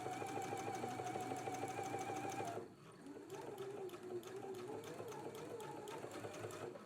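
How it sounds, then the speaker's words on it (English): A sewing machine runs a basting stitch in a steady, rapid mechanical chatter, close and continuous, shifting to a slightly different pitch partway through. "So now we're going to go to our sewing machine and we want to do a basting stitch right here close to this press edge."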